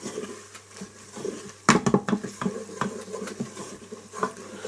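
Onions and spices being stirred in a curry pan for lamb meatball curry, with a spoon scraping and clinking against the metal pan in an irregular rhythm, moderately close and with no talking.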